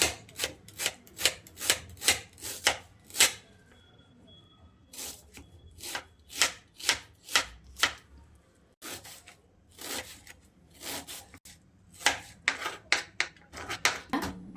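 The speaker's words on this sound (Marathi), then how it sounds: "कांदे हे ना असं बारीक चिरून घेऊयात कांदा आपण" An onion is finely chopped with a knife on a board, producing a fast, steady run of crisp close-up chops with a brief pause partway through.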